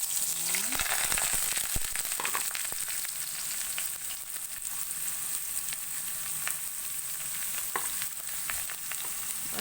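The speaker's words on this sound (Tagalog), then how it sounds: "gigisahin ko po itong papaya guys" Papaya sautéing in a pan gives a steady, fairly quiet sizzle throughout, with a few faint clinks of stirring and no talking.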